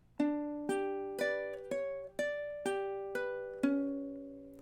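Ukulele notes ring out one after another in a steady, unhurried rhythm, each plucked note clear and close and decaying slowly, playing a measure of a love song with no voices.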